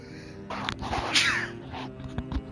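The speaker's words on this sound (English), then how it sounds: "I got a sneeze" A single close sneeze, a sharp breathy burst in the middle, against a low background hum.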